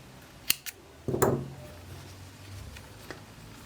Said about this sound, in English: then chain 1 and cut your yarn